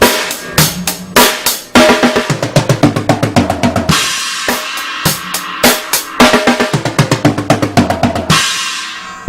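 Drum kit played in a steady beat broken up by quick rolls across the toms, with sharp close hits and cymbal crashes, loud and without any voices.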